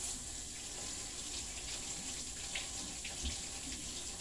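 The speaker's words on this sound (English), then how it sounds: "I'm going to wash each one." Water runs steadily from a kitchen tap as bell peppers are washed one by one beneath it, a continuous soft splashing gush with no voices.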